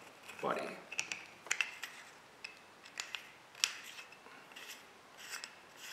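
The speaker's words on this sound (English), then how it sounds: "We screw it all the way in." A caliber change kit barrel being screwed into the valve body of an Airforce Texan air rifle, heard as a quiet close-up series of irregular metallic clicks, scrapes and rubbing sounds.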